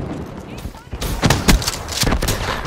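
A frag grenade explodes nearby in Call of Duty: Black Ops III, a few heavy booms and thuds amid gunfire as game voices speak.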